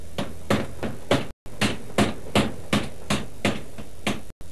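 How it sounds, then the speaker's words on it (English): Heavy rhythmic thuds of a power hammer forging hot metal with swaging tools, striking repeatedly at a steady pace, each blow loud and ringing with broad clanging noise. "the heated metal is placed under a hammer"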